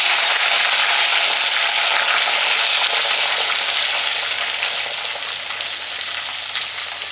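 Sambar onions and thinly sliced regular onion dropped into a hot tempering for fenugreek leaf pulusu, a loud, dense, continuous sizzle that eases slightly toward the end, close up with no speech.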